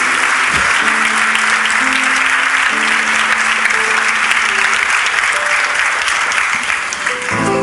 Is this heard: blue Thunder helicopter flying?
no